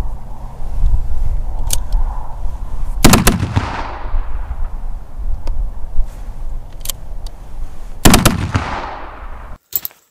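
A Remington 1858 black-powder revolver is handled and loaded with small clicks and metallic taps, then two loud close shots ring out several seconds apart, each with a decaying echo.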